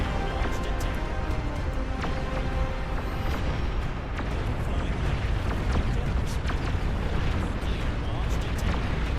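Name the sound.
pong cannons firing in Beyond All Reason video game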